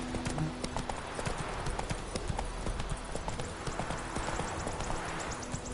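A horse gallops in The Witcher 3 video game, its hooves drumming in a fast, continuous clip-clop rhythm, loud and close, with brief voices in the background.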